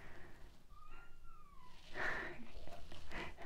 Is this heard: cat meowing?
yes